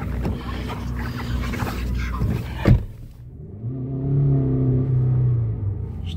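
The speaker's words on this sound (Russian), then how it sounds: "Сейчас я пару раз газану." A Toyota RAV4 with the 2AR-FE engine, freshly decarbonized and smoking, is blipped: a brief sharp rev spike amid rumbling idle, then a sustained throttle hold with a rising engine drone, close by.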